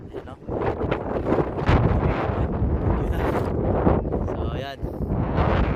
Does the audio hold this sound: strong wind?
yes